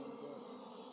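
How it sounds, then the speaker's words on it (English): Honey bees swarm out of a hive opened during a removal from a fallen tree, producing a dense, steady buzzing drone, faint and continuous with no talk. "most of the bees came out."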